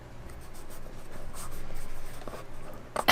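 Faber-Castell Pitt artist brush pen scratching and sweeping across paper on a non-slip cutting mat, a steady close run of soft strokes ending in a brief louder rustle.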